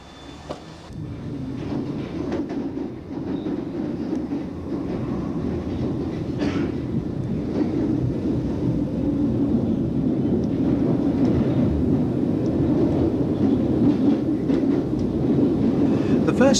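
A London Underground A stock train runs southwards through a tunnel, a loud continuous rumble and roar with rhythmic clatter of wheels on rail joints, building steadily over the whole stretch.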